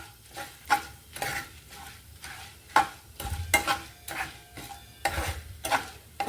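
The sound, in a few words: tempering spices frying in oil for taro curry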